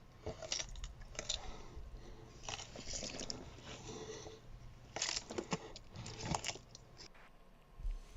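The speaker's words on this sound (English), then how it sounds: "Oh, you can hear it crunching" In an analog horror setting, the Harvester creature crunches and chews steadily, a dense run of wet bites and clicks that swells and fades over a dark rumbling bed.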